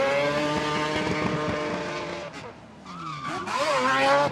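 A drift car driven by 'Mad Mike' Whiddett at the Festival of Speed: a loud engine note with steady harmonic tones and a long, wavering tire squeal, close and continuous, dipping briefly before surging again.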